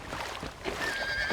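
A horse whinnies in the Red Dead Redemption video game, a brief, high, wavering call that rises out of a busy background of ambient noise and lasts about a second.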